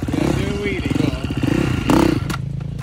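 A two-stroke motocross bike at the MX Nationals at Oxford Motoparc revving hard as the rider tries a wheelie, a buzzing engine rising and falling under loud nearby talk and shouting.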